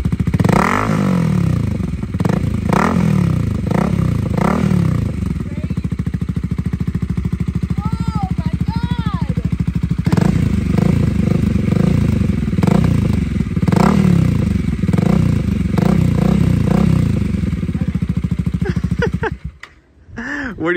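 A Honda Rebel 300/500 motorcycle fitted with a Coffman's exhaust revs repeatedly in loud bursts, rising and falling close by, with a sharp cutoff near the end.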